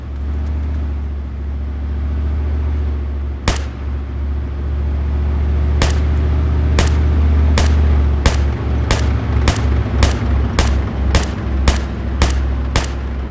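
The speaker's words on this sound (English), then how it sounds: "But you hear the tank?" A tank in ArmA 3 with the MegaSound mod rumbles on as a heavy, steady low engine drone, while sharp booming cannon or gunfire blasts ring out, first singly, then in a rapid regular series.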